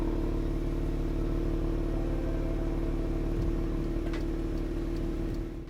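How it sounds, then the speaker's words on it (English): A car engine idles steadily with a low, constant rumble and exhaust hum, recorded near the tailpipe, a few faint ticks over it, no voices. "the exhaust is blowing out air"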